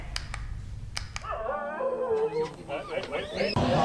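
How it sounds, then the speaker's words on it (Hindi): Stray dogs barking and howling, a run of sharp barks followed by a long wavering howl, fairly close, with a talking voice underneath. "सोशल मीडिया पर एक वीडियो वायरल हो रहा है। इसमें साफ दिखाई दे रहा है कि लावारिस कुत्ते भौंक रहे हैं"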